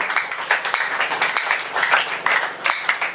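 Church congregation clapping together during worship, a dense, lively burst of many hands beating in a quick steady rhythm, close and loud throughout.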